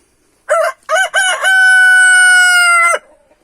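A rooster crows loudly at close range, with a few choppy opening notes followed by one long sustained tonal call lasting over a second before it cuts off abruptly.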